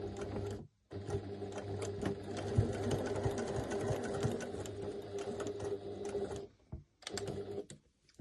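Sewing machine stitching a beginner's fabric purse, a steady continuous mechanical whir with rapid needle clatter running for several seconds, briefly stopping near the start and again near the end, close and clear.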